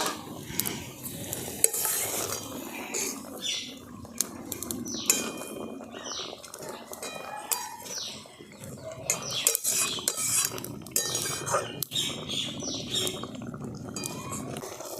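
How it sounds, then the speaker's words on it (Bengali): Fried pabda fish goes into a pan of boiling mustard gravy, giving a steady bubbling sizzle with scattered clinks and scrapes of utensils against the pan, close by and continuous with no talking. "ভেজে রাখা মাছগুলো দিয়ে দিচ্ছি।"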